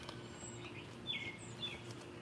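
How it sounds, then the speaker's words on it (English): A bird screams outdoors in a few short, high, faint calls spread over a quiet background. "That's a bird screaming."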